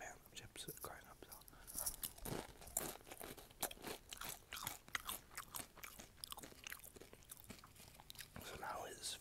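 Nacho chips crunched and chewed up close, a quick series of sharp, bright crunches and wet chewing at low volume, with soft whispering in between.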